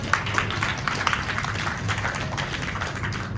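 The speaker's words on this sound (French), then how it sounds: "On peut les applaudir." Audience applause for quiz finalists at a peace-themed school quiz, a dense, moderately quiet patter of many hands clapping that continues evenly with a few sharper individual claps.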